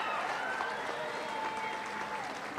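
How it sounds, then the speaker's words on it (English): An audience cheering and applauding Olympic and Paralympic athletes at a welcome home celebration in Queensland, a dense wash of clapping and crowd noise held steady and fairly close for a few seconds. "Let's give them a big cheer"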